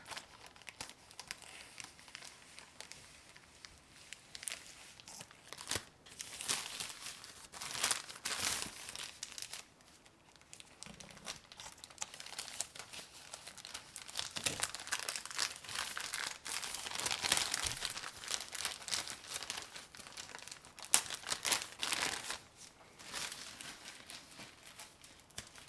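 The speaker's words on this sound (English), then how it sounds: "I think I can just go ahead and cut it open" Crinkly plastic shoe packaging for a pair of Vivaia shoes being cut open and unwrapped, with close, steady crumpling and rustling that swells in bursts and sharp tearing crackles throughout.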